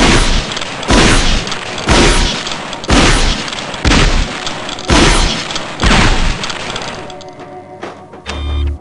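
Shotgun blasts at a training target in the game Gunman Chronicles, seven loud booming shots at roughly one-second intervals, each with a short rumbling tail, followed by a mechanical reload clatter.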